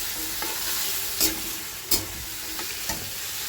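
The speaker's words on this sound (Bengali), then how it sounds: "আলুটাও সুন্দর করে ভেজে নেব। আলুটা যে একটুখানি ভাজতে না ভাজতেই দিয়ে দেবো চিকেনগুলো" Small-cut potatoes and chicken fry in a pan with a constant close sizzle, punctuated by three or four distinct scraping stirs spaced about a second apart, no voices.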